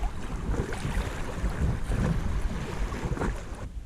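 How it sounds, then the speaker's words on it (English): Rough, bumpy water on the River Severn, heard from a stand-up paddleboard, with a steady wash of choppy waves and wind buffeting the microphone throughout. "You can see the waves here are fairly high."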